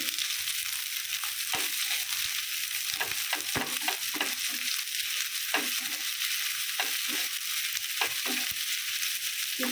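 Garlic and a large onion frying in a pan, a steady close hiss and sizzle broken by frequent sharp clicks and scrapes of a spatula stirring, with no speech.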